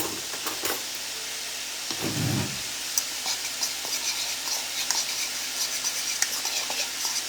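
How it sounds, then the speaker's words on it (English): Taco seasoning for jackfruit tacos is stirred in a pan with a utensil, making soft scraping and light clinks over a steady background sizzle, with a brief low thump near the start. "We're going to give our taco seasoning a little stir."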